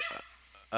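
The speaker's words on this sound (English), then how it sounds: "That's my dog in the background barking at the" A couple of quick dog barks sound from a short distance, followed by the start of a voice speaking.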